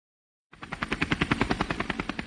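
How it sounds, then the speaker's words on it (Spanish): An air ambulance helicopter with rotor blades beating in a fast, loud, steady chop that starts abruptly after a brief silence and carries on close and strong. "Aeroambulancia, el más completo y avanzado servicio de ambulancia aérea en helicóptero en nuestro país"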